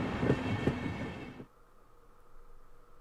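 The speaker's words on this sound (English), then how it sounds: "It seemed the train had reached its final stop." A train in a visual novel game rumbles and rattles as it arrives, loud clattering for about a second and a half before cutting to a quiet, faint low hum.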